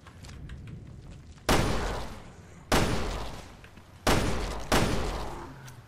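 Four loud, sharp gunshots from the video game Resident Evil: Revelations 2, spaced unevenly with the last two close together. Each booms and decays into a lingering tail over a low ambient background.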